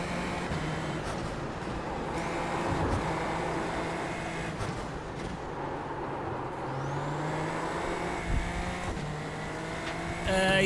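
A race car engine in the iRacing sim racing game drones continuously for about ten seconds, its whining harmonics climbing and falling with the revs, loud and steady with a few sharp clicks.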